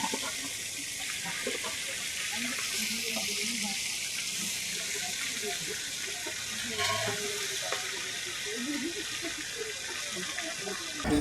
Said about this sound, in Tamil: ஜிலேபி மீன் அப்படியே பொறிக்கிறாங்க பாருங்கள்